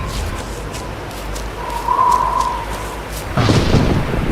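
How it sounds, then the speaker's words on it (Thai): Thunder in the video game DayZ on the snowy Namalsk map, a low steady rumble that swells into a louder crack and roll near the end, heard alone without talk. "ฟ้าผ่า"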